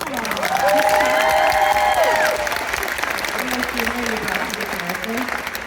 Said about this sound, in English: can you give her a round of applause?